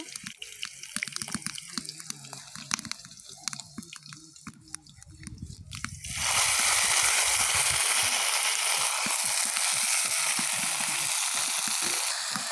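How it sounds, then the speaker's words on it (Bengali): Drumstick flowers frying with chopped green chilli in a wok: a loud, dense sizzle surges in about halfway and holds steady, following a stretch of quieter crackling and scraping. "এই সজনে ফুলটা দিয়ে দেওয়া হয়ে গেছে কড়াতে, এবার খুন্তি দিয়ে নেড়ে নেব।"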